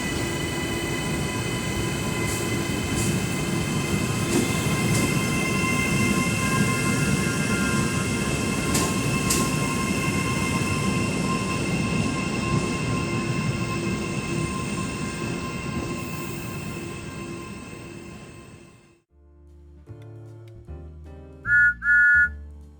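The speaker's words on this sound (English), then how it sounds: "The next train departing from platform 1 is the Southern Line service to Papakura." A three-carriage Southern Line train to Papakura rumbles loudly and continuously alongside platform 1, its wheels and motors droning with faint whines, then the noise stops abruptly and a short musical chime follows.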